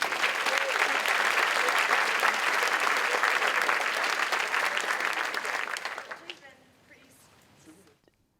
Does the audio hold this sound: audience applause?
yes